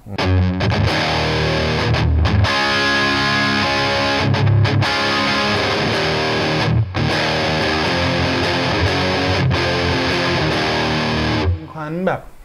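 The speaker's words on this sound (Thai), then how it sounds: "เสียงแตกเปล่าๆของตู้แอมนะครับ" Heavily distorted electric guitar rings out loud and sustained, chords held and restruck with a few short gaps between phrases.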